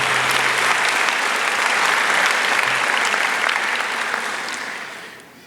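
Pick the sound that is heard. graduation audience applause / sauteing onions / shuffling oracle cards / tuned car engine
graduation audience applause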